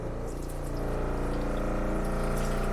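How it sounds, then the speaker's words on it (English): A water pump in a 2020 Winnebago Travato GL RV runs with air in the lines, giving a steady, loud mechanical buzz with a rapid pulsing rhythm mixed with rushing water, continuous and alone throughout. "If you're wondering why the pump makes that obnoxious noise, it does that when there's air in the lines."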